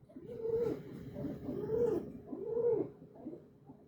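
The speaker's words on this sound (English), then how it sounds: "Was that your owl?" A pet owl calling indoors, a series of soft hooting, purring-like calls rising and falling in three or four swells, close and moderately loud, no talk.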